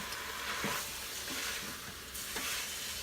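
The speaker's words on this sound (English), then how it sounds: "let's stir in the rice mixture and the seasoning. I'm going to give it just a little stir." Rice mixture and Cajun seasoning stirred inside an Instant Pot for chicken and rice, a few soft scraping strokes of a spoon against the pot over a steady sizzling, bubbling background.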